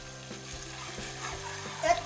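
Malai kofta curry masala stirred in a pan, a soft steady sizzle with faint scraping strokes running throughout at low volume.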